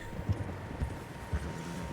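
Horse hooves clip-clop in Red Dead Redemption 2, three soft, evenly spaced thuds about half a second apart, fairly faint and close, over a low steady ambient hum with no talking.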